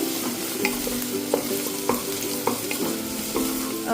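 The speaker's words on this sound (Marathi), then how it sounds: "अजून थोडा कांदा शिजला पाहिजे अजून दोन तीन मिनटं आपण कांदा छान परतून घेऊया" Onions sauté in a pan for squid masala, giving a soft continuous sizzle broken by regular, fairly close clinks and scrapes of a spatula stirring, with no talking.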